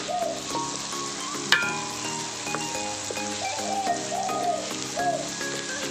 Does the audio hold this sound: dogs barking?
no